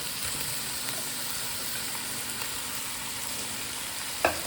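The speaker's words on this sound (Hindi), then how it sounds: "अभी हम इसमें डालेंगे टमाटर का पेस्ट" Tomato paste goes into a hot pan for soup and gives a faint, steady sizzle throughout, with one brief clink near the end.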